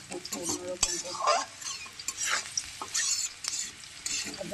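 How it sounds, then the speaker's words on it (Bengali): Sliced onions sizzle and crackle as they fry in a pan for a fish curry, with repeated scraping stirs and clinks of a spatula against the metal, busy and close with no talk. "একটু ভাজা হয়ে যাক পেঁয়াজটা"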